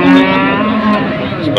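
Pegon cattle at a busy village livestock market lowing in a loud, drawn-out, close moo, with crowd noise underneath.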